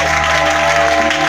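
Church congregation at a worship service breaking into loud, dense applause and acclaim, a steady continuous roar of clapping filling the room with a low hum beneath it.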